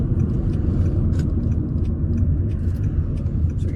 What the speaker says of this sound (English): we can build up at different speeds and demonstrate going through all the gears